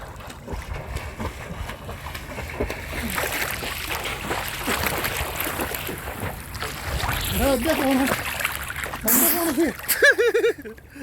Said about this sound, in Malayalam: അപ്പം ഞാനും ഒന്ന് വെള്ളത്തിൽ ചാടട്ടെ